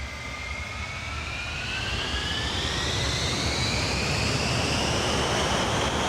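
An Avro Vulcan bomber's engines in Microsoft Flight Simulator 2024 roar steadily while climbing, with a rising whine sweeping upward over a broad rushing drone that grows slightly louder, heard alone.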